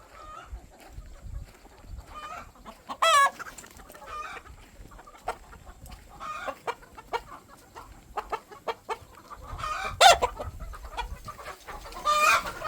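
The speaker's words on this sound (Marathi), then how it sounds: "कोंबडा कोंबडी" Desi roosters and hens on a village poultry farm, clucking and calling in scattered bursts with occasional louder crows close by, several birds overlapping against a busy farmyard background.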